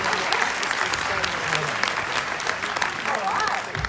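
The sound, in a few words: audience applause at forum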